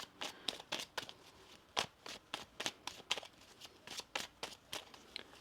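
Tarot cards being shuffled in quick, irregular bursts of crisp riffling and snapping, close up and with no talking.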